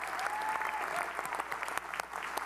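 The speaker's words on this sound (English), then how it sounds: "Give them a round of applause." A town-hall audience at a State of the City address in Atlantic City, New Jersey claps for police and fire responders in a steady, dense round of applause with faint crowd murmur underneath.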